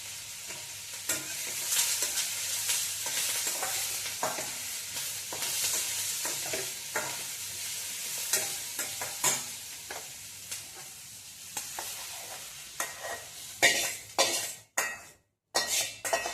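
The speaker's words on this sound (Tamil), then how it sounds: "பெரிய வெங்காயம் நல்லா வதங்கணும். கருவேப்பிலை, கொத்தமல்லி கொஞ்சம்." Large onions with curry leaves and coriander are sautéed in a pan for lentil adai dosa: a continuous sizzle with repeated spoon scrapes and metal clinks, ending in a few louder clanks and a brief silence.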